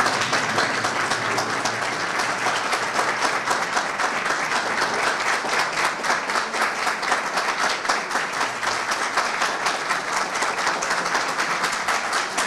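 Sustained, dense applause from a large audience at a CHP party youth camp, welcoming Kemal Kılıçdaroğlu to the stage, steady and loud throughout with no pauses.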